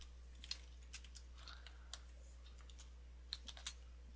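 A computer mouse clicks while a WordPress post is edited: sparse, sharp, quiet clicks at irregular intervals over a faint steady hum, with no talking.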